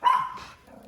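A single sharp dog bark, close and fairly loud, quickly fading into a quieter tail with faint background noise.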